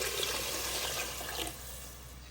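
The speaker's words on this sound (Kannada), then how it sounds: "ಇದಕ್ಕೆ ಬೇಕಾಗುವಷ್ಟು ನೀರನ್ನು ಹಾಕೋಣ" Water pours steadily onto rice in a home kitchen, a continuous close splashing rush that eases off slightly near the end.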